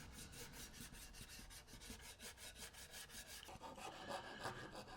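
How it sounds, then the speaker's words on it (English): Scrap pine is hand sanded after rasping, with a steady back-and-forth scratchy rubbing in a quick regular rhythm, close and fairly quiet, becoming rougher and denser near the end. "And everything gets a good hand sand here"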